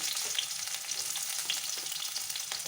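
Onions sizzle and fry steadily in a pan with a dense, crackling hiss that stays even throughout, joined by a couple of faint stirring clicks and no voices.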